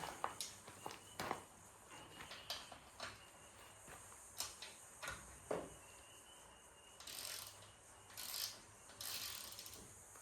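A ratchet with a 12mm socket works on the rear shock bolt of a Suzuki RMZ450 motorcycle, giving faint, close, irregular clicking strokes with soft metallic rubbing in between.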